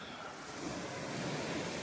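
Steady wind roars and buffets the microphone at an archaeological cemetery in the Peloponnese, Greece, a constant broad rush with no pauses and no voices.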